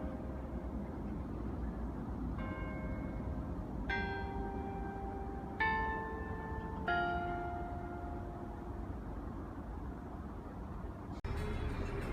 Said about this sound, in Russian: зазвенели колокола на церкви